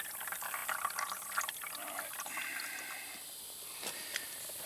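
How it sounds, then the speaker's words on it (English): A pump fills a container with bayou water beside the Saint Louis Canal. The trickle and pour are quiet but steady, with a few small splashes and drips as the water goes in. "Alright, so I'm pumping Bayou water in here."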